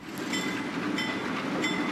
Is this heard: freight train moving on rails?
yes